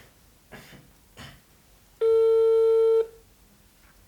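A single long, steady electronic telephone tone sounds loudly for about a second after a couple of faint muffled knocks, as a call to someone named Don Juan is placed.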